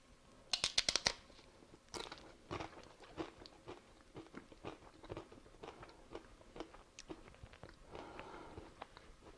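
Close, crisp crunching and chewing while tasting homemade fire-roasted salsa with jalapenos, a burst of sharp bites at first followed by steady rhythmic mastication, quiet and near.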